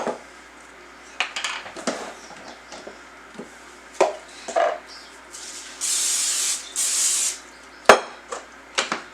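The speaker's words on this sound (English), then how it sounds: "I have found if I don't spray my waffle iron every time, they stick" Two long hissing bursts of cooking spray on a waffle iron stand out among scattered clinks and taps of kitchen utensils.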